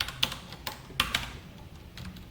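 Typing on a computer keyboard while coding a JSP web page, a few sharp close key clicks in an irregular sparse rhythm, fairly quiet, with no voice.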